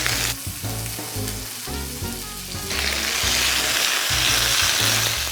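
Seafood scallion pancake (haemul pajeon) sizzles and fries loudly in oil in a pan, a steady close crackle that swells and brightens partway through, with no voices.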